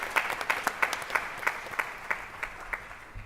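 Audience at a school board meeting claps in a steady smattering of distinct handclaps, moderately loud and close, tapering off over a few seconds.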